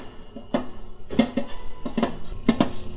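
A burger mixture for quinoa burgers is stirred in a bowl, with a series of light scraping clinks from utensil against bowl in an uneven rhythm, close and moderately loud.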